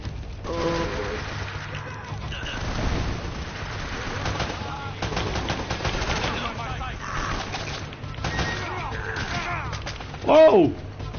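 Enemy gunfire in Uncharted: Drake's Fortune sounds as scattered shots and short bursts popping at moderate distance through a busy, muffled game soundscape, with one sharper burst near the end.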